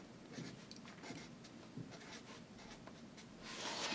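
Pen or pencil writing words on paper, a faint, close scratching that runs steadily with small stroke bursts and grows slightly louder at the end, with no voices.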